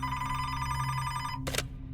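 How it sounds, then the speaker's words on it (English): A telephone bell rings in a steady electric trill, fairly quiet and alone, then cuts off abruptly with a short burst of noise as if the receiver is picked up. "when her phone rang"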